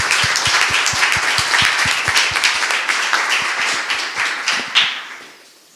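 An audience at a panel discussion claps for several seconds. Sharp, distinct hand claps over a dense wash of applause taper off and fade near the end.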